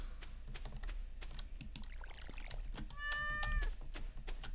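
A cat meows in a farming video game, a short rising electronic cry standing out over busy game sound effects and rapid keyboard typing.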